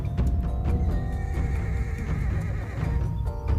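An adult western horse in the prehistoric survival game Ecos: La Brea neighs and whinnies loudly and repeatedly, with clip-clopping hooves and a steady, dense game soundscape beneath and no talking.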